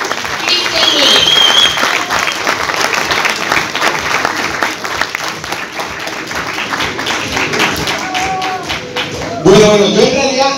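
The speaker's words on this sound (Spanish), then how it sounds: "quiero que le den un fuerte, pero un fuerte aplauso" A loud, dense burst of audience applause fills a seminar on sales prospecting, a steady roar of many hands with voices calling out over it, swelling again near the end.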